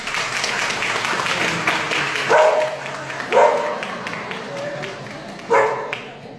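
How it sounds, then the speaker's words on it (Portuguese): Audience applause at a book presentation in Lisbon, a steady wash of clapping with a dog barking sharply three times over it and voices mixed in. "Queria só pedir um grande aplauso para a minha querida Patrícia."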